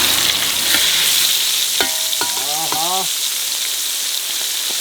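Large fish slices frying in hot oil at a roadside eatery near the Kerala border, a loud continuous hiss and crackle, with a brief spoken voice partway through.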